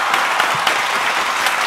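A crowd of high school seniors claps at close range, a brief burst of dense, lively applause with sharp individual claps.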